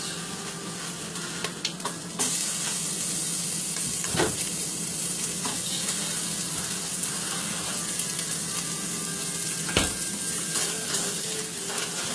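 Loud, continuous sizzling of carne guisada meat chunks frying in oil in a pan, with a few stirring scrapes and clacks over the steady hiss.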